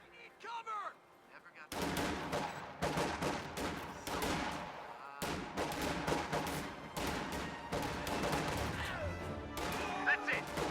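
Sniper shots and rifle fire in a squad-based war strategy game ring out as a dense, continuous barrage of sharp cracks that layer over one another for several seconds, with no pause after a brief quiet start.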